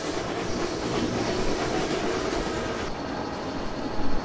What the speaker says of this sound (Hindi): चालू है हमारा लोकोमोटिव